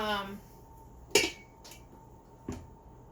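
A Pampered Chef mix and chop tool scrapes and knocks against a pan of cooked meat, with two sharp metallic clanks a second apart after a brief voice at the start.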